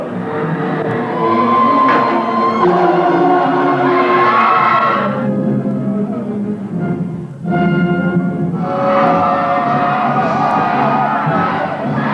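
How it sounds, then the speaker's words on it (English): Large crowd at a medieval banquet and tournament cheering and whooping for jousting knights, a loud, sustained roar that dips briefly in the middle before surging again. "As participants in a medieval banquet and tournament extravaganza, they cheer their knights on to victory"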